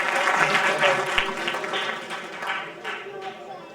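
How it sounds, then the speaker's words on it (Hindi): Applause from an audience welcomes an honoree at a community award ceremony, a steady wash of clapping that fades gradually over a few seconds. "जोरदार तालियों के साथ स्वागत और अभिनंदन"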